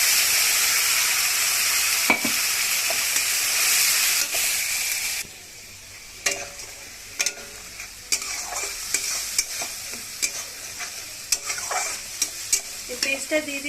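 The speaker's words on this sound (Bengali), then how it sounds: "এই পেস্টটা দিয়ে দিচ্ছি, পেস্টটা একটু ভাজা ভাজা হবে।" Ginger, garlic, green chilli and onion paste hits hot oil in a pan with a loud hiss, then settles into a quieter sizzle broken by scraping stirs and clinks.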